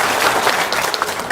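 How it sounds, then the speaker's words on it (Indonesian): Audience applause at a talk-show style gathering, a dense steady patter of many hands clapping at close range for a short burst with no voices over it. "Tepuk tangan dong."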